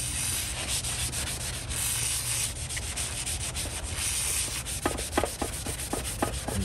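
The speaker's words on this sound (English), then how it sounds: "So we're gonna use a kind of Scotch-Brite pad and WD-40." Scotch-Brite pad soaked with WD-40 scrubbing a metal part of a rare vintage Milwaukee circular saw, a steady close rasping rub with sharper back-and-forth strokes toward the end.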